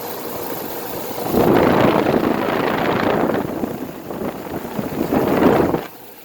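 A 2008 Rheem Classic 5-ton heat pump runs in cooling mode, a steady broadband outdoor whoosh of fan and compressor with surging louder stretches and wind buffeting, then a drop near the end.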